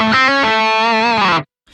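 A PRS DGT electric guitar runs through a Keeley compressor and an Exotic Effects BB preamp and plays a brief saturated, overdriven phrase of a few notes that bends slightly and cuts off sharply, followed by a short faint tail.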